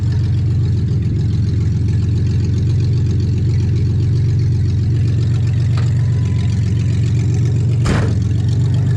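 A 2001 Ford Ranger engine running steadily, a loud, close, low rumble holding an even idle throughout, with a short sharp knock near the end.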